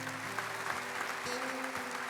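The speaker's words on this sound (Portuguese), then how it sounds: "Aplauda a Igreja Católica." A congregation applauds during a Catholic Mass homily, a soft, distant wash of clapping in a reverberant church, with a low sustained organ-like tone underneath.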